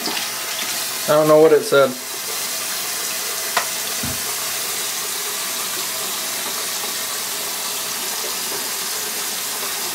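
Warm tap water runs steadily to rinse dye out of a mustache, making a constant hiss throughout, with a brief spoken comment near the start.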